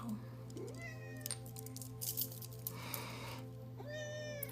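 A cat meows a few times, close by, over a steady low hum with some rustling in between.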